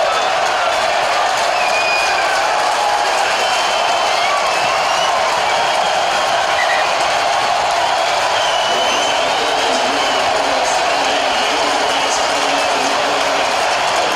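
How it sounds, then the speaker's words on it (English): A big rugby stadium crowd at an Australia versus New Zealand match in 2011 keeps up a broad, steady roar of cheering for Richie McCaw, which fills the whole stretch without a break. "Richie McCaw, great cheer from the crowd"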